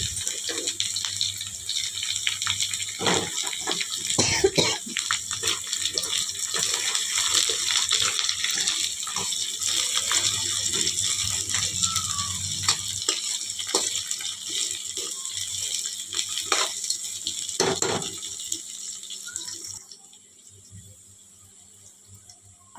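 Brinjal pieces frying in a kadai for a curry give a steady, close sizzling hiss with occasional clatters of stirring, which drops off sharply near the end.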